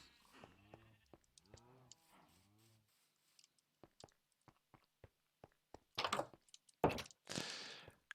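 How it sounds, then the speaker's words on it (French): A few wavering Minecraft sheep bleats sound close at the start, then quiet clicks and taps, followed by louder bursts of rustling noise near the end. "Ils sont beaux, nos moutons, ils sont beaux."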